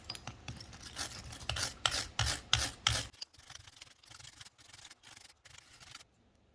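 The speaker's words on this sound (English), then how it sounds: "I also took a wire brush and cleaned out the threads as much as I could" A wire brush scrubbing bolt threads during a Honda Accord 2.4L starter replacement, a close dry rasp in short strokes, several fast bursts followed by slower, quieter scrubs before stopping.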